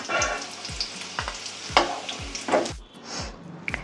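Grated carrots frying in ghee for carrot halwa (gajar ka halwa), a close sizzle with a regular series of spoon scrapes and knocks against the pan, nobody speaking.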